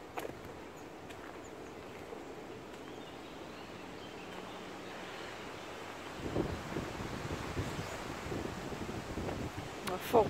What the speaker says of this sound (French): Un fort vent encore.